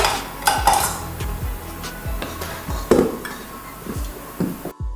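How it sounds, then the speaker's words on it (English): A spoon stirs almond extract into cherry pie filling in a bowl, giving repeated close scrapes and soft clinks at an uneven rhythm, with no voices. "you're just going to add the almond extract and stir that into the cherry pie filling"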